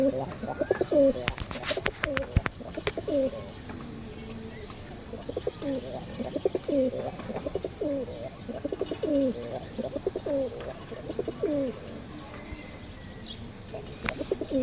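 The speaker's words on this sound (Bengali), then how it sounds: "ডাকলে এই কবুতর সুন্দর লাগে" Fancy pigeons at a pigeon fair coo in a steady run of repeated calls, close and clear, with a few sharp knocks early on and people talking intermittently in the background.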